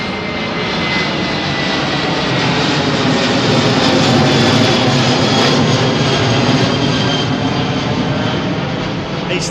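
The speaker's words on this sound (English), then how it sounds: "Look how slow that undercarriage goes up on the 330, man" Iberia Airbus A330 jet climbing overhead after takeoff from runway 09R at London Heathrow, a loud, close broadband engine roar swelling to a peak midway and holding strong.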